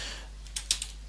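A few quick, crisp keystrokes on a computer keyboard, close up and fairly quiet over a low steady hum, with no talking.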